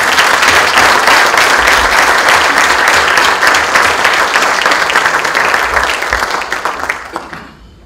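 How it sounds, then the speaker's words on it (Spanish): A crowd applauds loudly and steadily for several seconds, the dense clapping slowly tapering off at the end. "nosotros vamos a dar un aplauso para ella."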